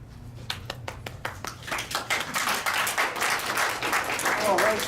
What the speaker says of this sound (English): Oh, right, spontaneous clapping.